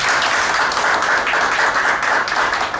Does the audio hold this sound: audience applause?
yes